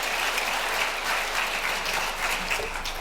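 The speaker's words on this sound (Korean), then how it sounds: "우리의 고난과 슬픔을 이긴 주님께 우리 영광의 박수 올려드리겠습니다." A church congregation at a televised revival service gives loud, dense, continuous applause for the full stretch, with no pause.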